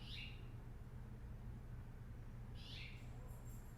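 Birdsong outdoors: two faint, brief high calls a few seconds apart over a quiet low hum, distant and soft, with no talking.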